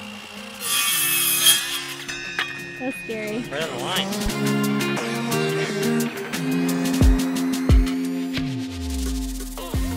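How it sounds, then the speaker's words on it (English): Hand saw rasping through wood in uneven back-and-forth strokes, up close, while people talk and react over the sawing. "Sawing for the first time in his life."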